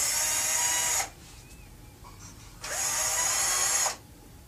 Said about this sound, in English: You take your screw gun and fasten the liner to the hood.